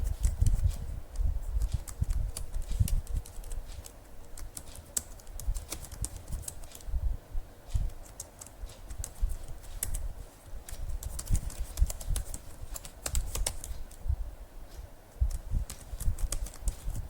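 Keys clatter on a computer keyboard while Java code is typed, an uneven run of light, close taps with short pauses, the typing heard alone with no talk.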